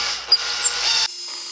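A hand-held drill bores a hole through an electric guitar body, a steady high whine lasting about a second with a couple of sharp bites, then cutting off to a quieter motor hum.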